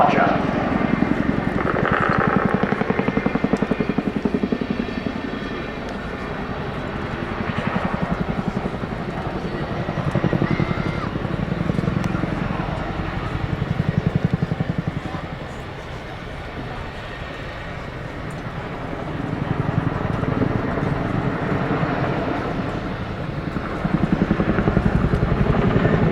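Chinook twin-rotor helicopter climbing at an air show, its heavy rotor thump and engine roar rising and falling in loudness across the clip, with a voice talking over it at points.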